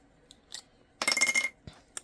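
A short burst of crisp snipping and rustling, like scissors cutting through paper, framed by a few quiet clicks and taps.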